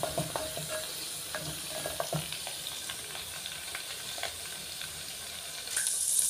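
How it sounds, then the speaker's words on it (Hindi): Garlic and green chili fry in a clay pot with a quiet, even sizzle, dotted with small crackles and light stirring taps throughout. "लहसुन और हरी मिर्ची को थोड़ा जलने, थोड़ा भून लेंगे।"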